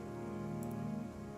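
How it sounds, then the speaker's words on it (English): Drizzling rain in the Morimens video game, a soft steady patter that stays even and continuous under a low sustained tonal background, with no voices. "The sound of drizzling rain fills the world."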